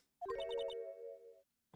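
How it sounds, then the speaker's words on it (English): A cell phone ringtone plays a theme from the Phoenix Wright game, a short bright electronic melody of quick chiming notes that holds a sustained tone and then cuts off. "I know that song your phone plays when it rings."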